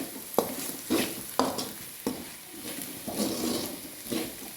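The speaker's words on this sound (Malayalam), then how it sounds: "ഇനി ഇതിലേക്ക് ചില്ലി ഫ്ലെക്സും മസാലകളും ചേർത്ത് കൊടുക്കാം. എല്ലാം കൂടി ഒന്ന് യോജിപ്പിക്കാം." Chicken roast masala with chili flakes and spices is stirred in a hot pan, with repeated scraping strokes of a spoon over a steady sizzle of frying, heard close up and without talk.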